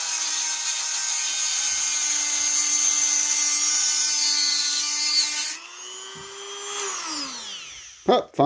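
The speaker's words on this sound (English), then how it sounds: "I'm going to use a Dremel" A Dremel rotary tool whines at a high, steady pitch while grinding a small steel extractor part for a Western Field M850 shotgun, the tone dropping under load, then spinning down, followed by brief handling clunks.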